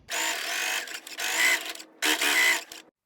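Sewing machine stitching fabric at an angle while making a bag, running in three steady whirring bursts with short pauses between them, close and clear.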